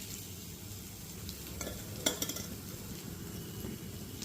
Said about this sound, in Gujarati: એની અંદર આપણે મગફળીનો ભૂકો એડ કરી અને આખું કોટિંગ કરી લેવાનું છે સાબુદાણા ઉપર